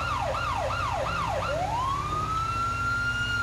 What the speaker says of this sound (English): I did change the sirens around a little bit on the fire vehicles too.